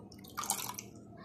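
Rose water poured into watermelon sharbat gives a short, soft trickle and splash of liquid, a brief pour heard close by and alone with no talking.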